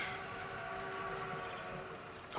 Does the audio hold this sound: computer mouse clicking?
no